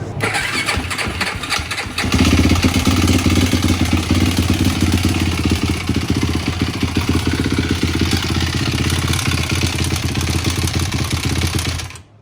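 A Yamaha YFZ 450 ATV, its carburetor suspected to be out of adjustment, starts up about two seconds in and runs loudly and steadily at close range, its engine note carrying a knocking clatter with no voices over it.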